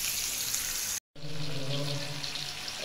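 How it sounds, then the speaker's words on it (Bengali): Hilsa fish pieces frying in a pan, a loud, steady rushing sizzle that cuts out briefly to silence, then resumes just as strongly. "সবগুলো মাছ ফ্রাই করার জন্য দেওয়া হয়েছে"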